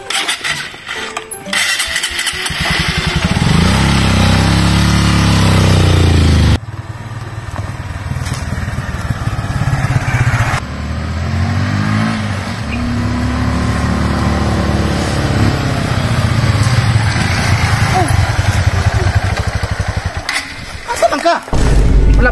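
A motorcycle engine runs loud and close, idling with a steady rumble that shifts and revs briefly, while people talk over it.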